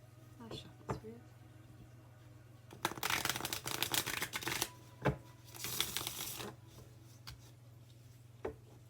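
Tarot cards are shuffled by hand up close in two brisk riffling bursts, quiet overall, with a low steady hum and a few soft taps between, alongside a person speaking.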